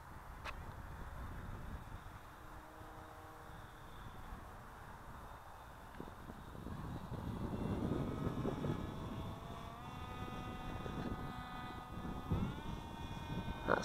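RC SkyWalker model plane with its electric propeller motor running steadily at less than half throttle, a quiet, even whine that stays in the background for the whole stretch with a slight swell midway.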